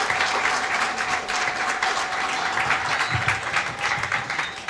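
Sustained applause from a large crowd, steady and dense throughout, with no talking over it.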